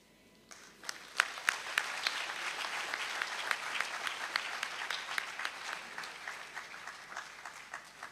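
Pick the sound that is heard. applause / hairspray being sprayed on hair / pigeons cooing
applause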